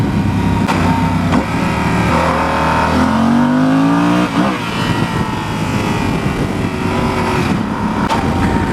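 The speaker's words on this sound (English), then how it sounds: "This engine has a nice bark to it." A 2016 Yamaha Super Tenere XT1200Z motorcycle engine pulls hard, its loud barking drone sweeping upward in pitch as it accelerates, then easing and building again, close and continuous.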